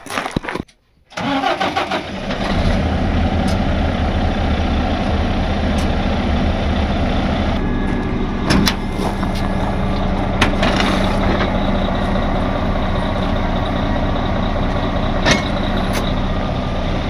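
A miniature backhoe's small engine cranks briefly, catches and settles into a steady, loud idle that runs on without a break, with a few faint clanks over it and no talk.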